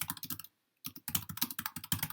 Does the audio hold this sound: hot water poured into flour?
no